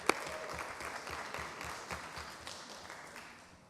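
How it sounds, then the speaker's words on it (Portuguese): Seminar audience applauds someone speaker at a legislative school event on women and power, one sharp clap first, then moderate group clapping that gradually fades away. "Um aplauso para a Cida."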